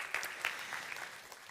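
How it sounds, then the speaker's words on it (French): A church congregation claps in a brief burst of scattered applause, moderately loud at first and then thinning out, with no voices over it. "Amen, tu peux applaudir."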